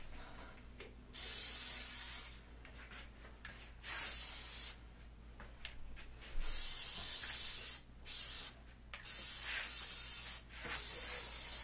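Plasti Dip aerosol is sprayed onto a car windshield in a series of loud, close hissing bursts of varying length, separated by short pauses, with no talking.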